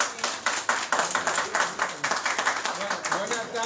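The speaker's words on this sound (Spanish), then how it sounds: "Fuerte el aplauso." A Spanish-speaking event audience claps loudly and steadily, with dense rapid hand claps merging into continuous applause and a voice heard faintly beneath.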